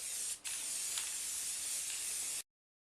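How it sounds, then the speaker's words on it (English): A spray can hisses loudly and steadily up close while spraying silver paint onto a cage, with a brief break near the start, then cuts off into silence. "I am going to spray paint my cage first silver."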